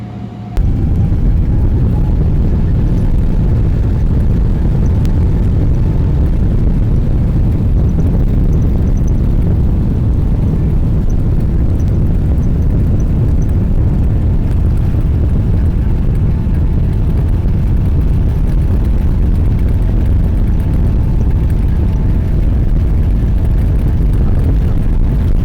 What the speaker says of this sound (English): Currently we are taxiing to runway 20 center.